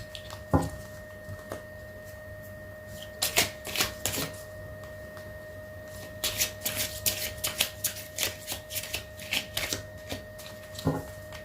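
Tarot cards are shuffled and drawn by hand up close, with bursts of rapid riffling flutter and sharp snaps between quiet pauses, and a steady electronic hum underneath.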